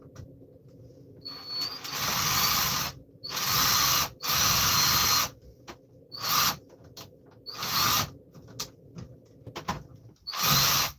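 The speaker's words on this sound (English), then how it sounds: "I just need a quick go of the drill to unscrew something." A power drill unscrews something in repeated bursts, each whirring for about a second with pauses between, loud and close, with faint clicks and handling noise in the gaps.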